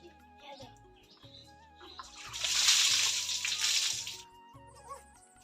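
Water splashes and sloshes while a little girl is bathed, swelling into a louder sustained pour or splash in the middle before settling, with background music playing throughout.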